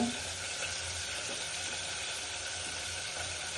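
Spice paste sautéing in a pan for a Bangladeshi fish bhuna curry, giving a steady, even sizzle with a faint low hum underneath, continuous and close for the whole stretch.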